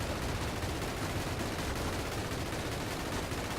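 Steady rattle of tracer-round gunfire in the VR sniper game The Last Sniper, dense and continuous with no clear gaps, loud and close throughout.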